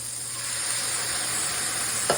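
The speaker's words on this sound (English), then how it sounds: "And now the time has come to deglaze right when it's about halfway." Sherry poured into a hot pan of shrimp, lobster and crab sets off a loud, steady sizzle and hiss that holds for a couple of seconds, then ends with a brief clatter.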